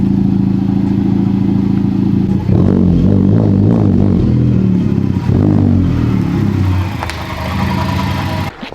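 Up close, a Honda Civic Type R engine that was previously totaled and has since been tuned holds a steady, loud idle. Partway through there is a burst of clattering, uneven revving before the engine settles back to a smooth, even rumble.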